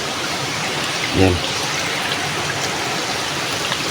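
Fresh spring water rushing steadily and loudly out of the ground outdoors, a continuous broad wash of flowing water with a brief voice over it.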